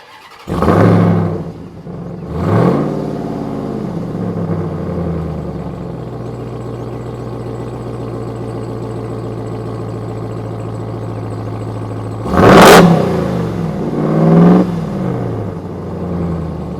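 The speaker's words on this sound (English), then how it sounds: "And of course, that exhaust sounds glorious." A RAM 1500 TRX pickup truck engine idles with a deep exhaust rumble, punctuated by four sharp revs: two near the start and two toward the end.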